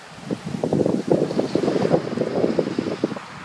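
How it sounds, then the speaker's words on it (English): Gusty wind buffets the microphone in rough, uneven bursts, a loud low roar with no other sound coming through. "you can't even hear me because of the wind blowing against the camera"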